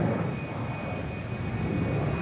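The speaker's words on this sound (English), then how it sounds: "KLM Flight 713 to Paramaribo, 777-300ER." KLM Boeing 777-300ER jet departing on a sunny morning takeoff, a steady broad roar of jet engines with a thin whine, continuous and fairly strong, no talking.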